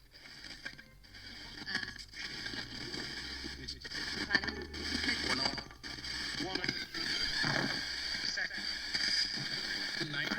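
Harsh, choppy radio static sweeping rapidly across stations from a hacked Timex T301B spirit box radio, with fragmented bursts of noise and voice snippets flickering in and out continuously.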